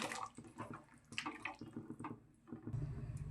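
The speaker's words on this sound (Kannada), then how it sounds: "ಈಗ ಇದಕ್ಕೆ ಹುಣಸೆ ರಸ ಹಾಕೊಳ್ಳೋಣ" Tamarind juice poured into a simmering traditional fish curry, a close, steady liquid splashing and trickling sound with small surges, ending in a fuller gush near the end, no voices.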